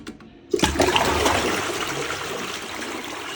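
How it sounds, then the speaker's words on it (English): A toilet flushing close up, starting with a sharp click of the handle and then a steady, loud rush of water that continues without talk. "Now, just make sure it flushes."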